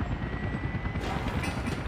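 Helicopter rotor thrumming steadily and loudly in the city-building game Workers & Resources, a dense continuous chop that stays close throughout with no voices.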